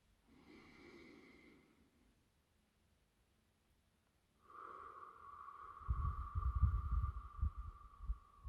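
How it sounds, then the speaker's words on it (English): Guided breathing exercise breaths: a soft breath around the first two seconds, a pause, then a louder, longer exhale with a tonal hum and rough, close breathy noise. "we're going to start breathing again"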